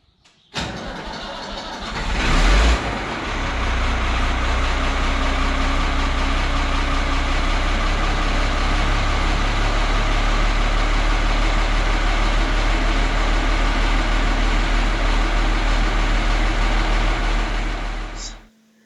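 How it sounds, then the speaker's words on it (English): A Ford TW tractor engine starts with a brief burst, then runs at a steady, loud idle close by for the rest of the clip, its low rumble constant until it cuts off at the end. "It looks big on camera until I try to drive the tractor through it."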